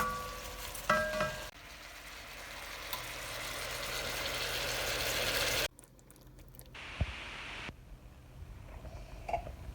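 Turkey tikka masala curry simmers and sizzles in a pan, a soft steady bubbling hiss broken by a few faint clinks and shifts in sound, with no talking.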